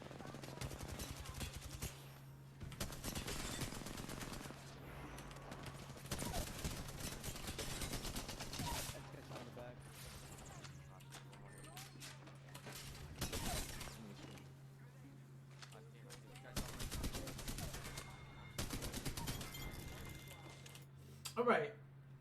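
Rapid bursts of gunfire from a competitive first-person shooter game, several volleys of automatic fire spread through the clip over a steady low hum, with game action between bursts and a louder shot near the end.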